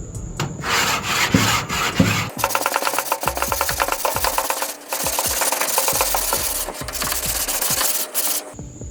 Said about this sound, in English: I'll fast forward through all of the actual scrubbing